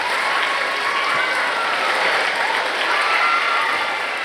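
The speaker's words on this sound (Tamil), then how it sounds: "என் கருத்துக்கு ஒத்துப்போவதாக இருந்தால் கரகோஷத்தை தாருங்கள்." Steady, dense applause from a large audience at a Tamil New Year debate show, a sustained even roar of clapping throughout with no speech.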